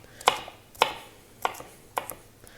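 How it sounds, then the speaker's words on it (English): A knife chopping pepper on a cutting board, four crisp separate strikes roughly half a second apart, close and clear with nothing else heard. "we're cutting this so that it's all going to cook evenly"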